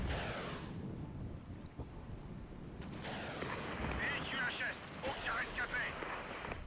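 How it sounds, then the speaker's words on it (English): Missile barrage in the strategy game Regiments, a dense rolling rumble of many explosions overlapping one after another, with sharper crackling blasts building toward the end. "That is a lot of missiles."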